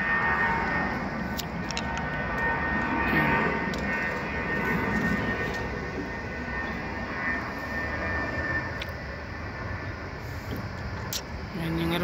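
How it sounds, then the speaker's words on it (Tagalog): A fixed-wing airplane passing over Auckland International Airport, a steady distant roar heard from a car park rooftop amid construction site noise and people talking nearby. "Yan yung aeroplano."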